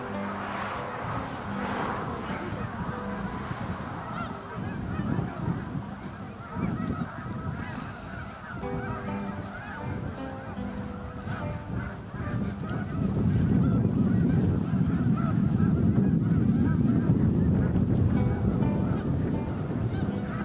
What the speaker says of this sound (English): here we have just thousands upon thousands of snow geese